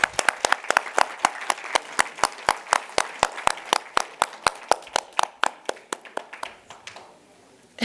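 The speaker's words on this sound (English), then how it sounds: "Please give him a round of applause." A ceremony audience at a tech summit applauds with a burst of sharp, irregular clapping that carries steadily for several seconds, then thins out and fades toward the end.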